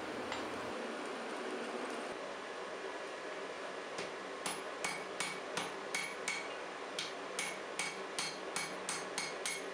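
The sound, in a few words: hammering steel layers, forge welding Damascus steel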